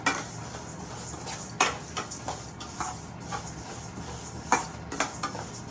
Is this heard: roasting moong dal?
yes